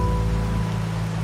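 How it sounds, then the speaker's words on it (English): Steady rain falls across a scene in the video game Wuthering Waves, a continuous close wash of patter with a low hum beneath it and no voices. "Rain's back."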